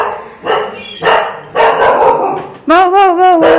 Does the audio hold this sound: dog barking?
yes